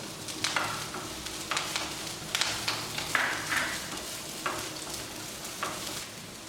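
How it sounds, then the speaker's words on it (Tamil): Onions and curry leaves stirred and sautéing in a pan, with soft sizzling and repeated scraping clicks of a utensil at a steady, unhurried pace. "அந்த வெங்காயத்தையும் கருவேப்பிலையும் போட்டு வதக்கலாம்"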